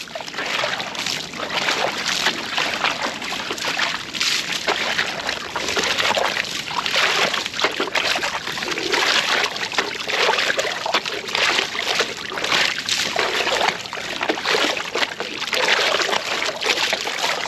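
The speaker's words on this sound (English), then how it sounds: "See how I'm swirling everything out?" Water and gravel swirl and slosh continuously in a UFO gold pan during backyard gold prospecting, a steady close splashing churn that goes on without pause and without talking.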